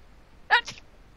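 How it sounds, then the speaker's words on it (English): A single sharp human sneeze, brief and close, bursting out of near silence with a small trailing breath. "Stop sneezing"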